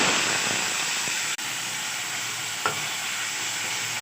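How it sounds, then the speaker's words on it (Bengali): Chopped potatoes fry in a pan with a steady, dense sizzle and hiss, broken by a few light scrapes of stirring; no voices. "এবারে আমি আলু কুচি ভাজি, লবণ, হলুদ,"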